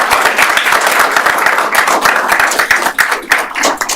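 An audience at a school board meeting claps steadily for girls receiving certificates, a dense run of close, sharp handclaps with no clear cheering or speech on top.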